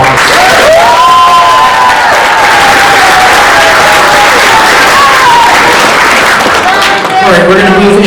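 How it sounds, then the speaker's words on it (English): Loud, sustained applause fills the room at a senior awards night, with scattered cheers and shouted voices rising over the clapping and a few whoops near the end. "Give everyone one more round of applause."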